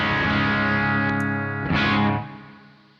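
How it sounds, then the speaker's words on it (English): A distorted electric guitar chord, overdriven through a Tube Screamer pedal, rings out, with a second strummed chord that then fades away. "Tube screamer now into here."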